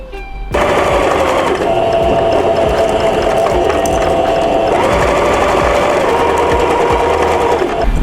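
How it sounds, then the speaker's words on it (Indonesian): Sewing machine stitching about 1 cm in around the edge of a fabric bunny bag, a loud continuous mechanical whir with fast rattling needle strokes that runs alone for most of the clip. "Selanjutnya kita akan menjahit sekitar 1 cm setiap sekeliling ini ya teman-teman."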